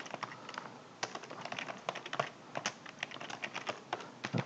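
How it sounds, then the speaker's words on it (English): Fingers type on a computer keyboard with quick, uneven key clicks and a few louder taps, close and dry, continuing steadily with no talking. "as I start typing in markdown"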